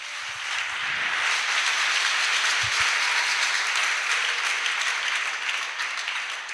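A church congregation applauds in acclamation of the Lord, a dense, even burst of clapping that swells in quickly and holds steady throughout.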